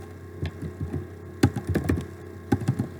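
Computer keyboard keys are typed in scattered soft taps with a few sharper clacks in clusters, over a low steady hum, with no voices.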